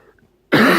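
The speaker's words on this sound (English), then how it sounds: "from all the coughing" A single harsh, loud cough bursts out abruptly after near silence, from someone with a lung infection and a sore throat.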